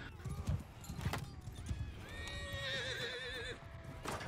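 A horse neighs loudly in Mount & Blade II: Bannerlord multiplayer, its wavering whinny rising and falling over scattered hoof clops and battlefield noise.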